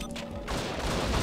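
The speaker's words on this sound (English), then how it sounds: "Oh, it's a grenade launcher." A grenade launcher fires in the Judge Dredd vs. Death video game, a brief, dense burst of blast noise that swells and stays loud to the end.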